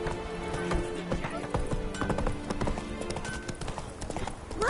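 Horse hooves in The Witcher 3: Wild Hunt on PS5, a steady clip-clop of trotting hoofbeats close by, layered over the game's music and ambient sound.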